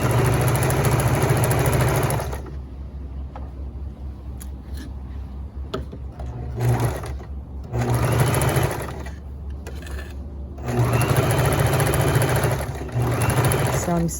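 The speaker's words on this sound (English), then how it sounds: "So I'm stitching at 5/8 inch seam allowance, center back." A sewing machine stitches a 5/8 inch seam at the center back of a waistband, running in several steady whirring bursts separated by pauses, with a person talking in between.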